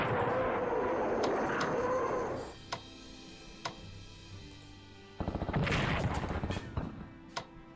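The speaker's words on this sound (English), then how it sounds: "Here we go with the rocket artillery. It's going to be the Katyushas." Katyusha rocket artillery fires in the Strategic Command strategy game: a thick roaring barrage that cuts off, a few isolated sharp cracks, then a rapid buzzing volley of launches that tails off into scattered single blasts.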